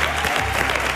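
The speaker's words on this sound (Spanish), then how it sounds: "Aplauso fuerte para ellos." Loud, dense applause from a crowd at a televised talent show grand final, a steady unbroken wash of clapping filling the whole short moment.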